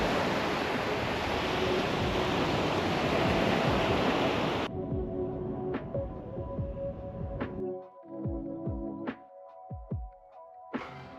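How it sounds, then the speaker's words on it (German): Sea waves on the French coast wash in a loud, continuous roar of surf for about four and a half seconds, then fall away abruptly, leaving a quieter background with scattered faint clicks. "Jetzt sind wir doch tatsächlich mal ans Meer gefahren."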